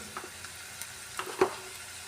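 Cauliflower pieces frying in a pan with salt and chili, a soft steady sizzle with a few faint scrapes and clicks from stirring, close and fairly quiet, with no talking.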